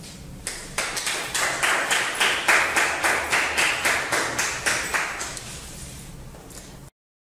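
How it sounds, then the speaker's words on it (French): An audience claps together in a steady, rhythmic unison beat, about three claps a second, fairly close and loud, before the clapping cuts off abruptly. "Alors si vous êtes d'accord avec ce plan, vous pourrez applaudir."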